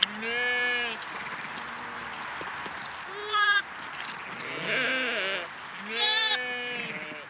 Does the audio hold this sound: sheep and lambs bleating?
yes